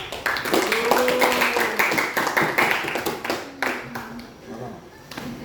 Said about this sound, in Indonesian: Beri tepuk tangan dong buat si Rizky.